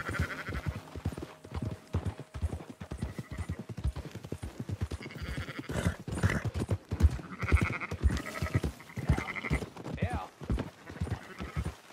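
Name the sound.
sheep bleating and horse hooves in video game Red Dead Redemption II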